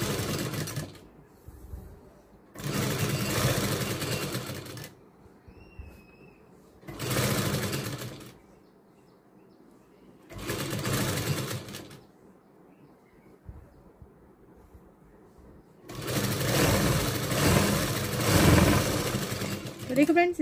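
Sewing machine stitching a fabric rose tassel, several separate runs of steady motor whir, each a few seconds long, with near-silent pauses between them; a faint bird chirp comes briefly in one gap.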